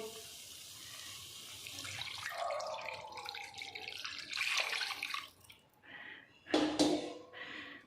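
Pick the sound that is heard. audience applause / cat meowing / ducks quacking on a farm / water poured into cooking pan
water poured into cooking pan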